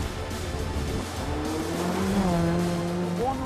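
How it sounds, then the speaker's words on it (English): Rally car engine revving hard during a race, roaring continuously and rising and falling in pitch as the car accelerates, heard loud and close from inside with steady road noise underneath. "Rev it up, rev it up."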